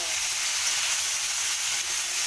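Potatoes frying in a pan at a home picnic cook-up, a steady, dense sizzle that holds evenly close up with no break and no voices.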